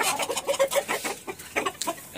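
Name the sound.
tiger breed chickens clucking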